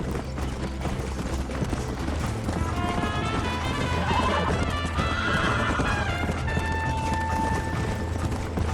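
A video game horse gallops fast with rapid, steady clip-clop hoofbeats and a loud neigh partway through, up close over a low rumble of game sound.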